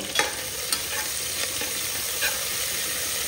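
Kasuri methi, mint and coriander leaves fry in hot ghee and oil with a steady, close sizzle and hiss, broken by a few soft spoon scrapes as the pan is stirred; no voices.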